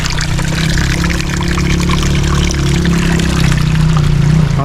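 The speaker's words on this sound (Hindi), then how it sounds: "ये पानी है बिल्कुल उबलता हुआ।" Hot spring water flowing continuously from its source near Naran on the road to Hunza, a steady loud pouring and trickling wash with a low rumbling undertone, close by and uninterrupted.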